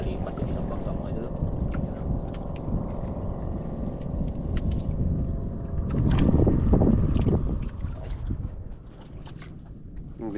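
A fishing boat engine drones steadily on open water with wind buffeting the microphone, surging louder for a couple of seconds before easing back.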